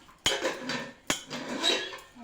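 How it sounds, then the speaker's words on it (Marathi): Two sharp metallic clinks of a metal tin being handled while it is greased with a little oil for steaming soft buttermilk dhokla, followed by quieter scraping and rubbing between the knocks. "एका डब्याला थोडंसं तेल लावून हे करून घेऊ"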